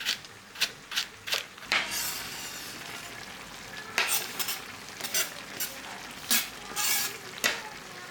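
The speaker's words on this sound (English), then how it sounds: "Once everything is sauteed" Diced vegetables, including finely diced carrot, sizzle in a pan alongside ground beef while a utensil stirs and scrapes in repeated sharp bursts, close by and fairly quiet.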